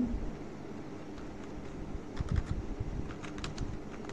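Typing on a computer keyboard while writing in MS Word: soft, quick key clicks, sparse at first, then denser bursts in the second half, fairly quiet in a still room.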